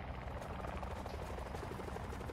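Helicopter in the Call of Duty Black Ops 4 Blackout battle royale mode, a steady rotor drone with rhythmic chopping pulses holding at constant loudness throughout, no talk over it.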